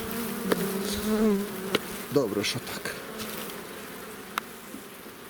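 Dense buzzing of many honey bees close by at an open hive, with a few words of speech over the hum and some brief clicks and knocks.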